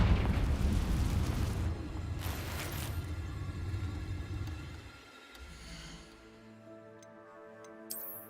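A Confringo fire spell explodes in the Hogwarts Legacy video game, opening with a loud, rumbling burst that rolls on for several seconds, then fades into a quieter tail with faint ticking and chiming game effects.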